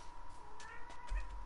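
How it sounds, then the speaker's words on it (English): Cat meowing indoors, a couple of short soft meows, faint and brief against a quiet background hum. "Your cat just said wow."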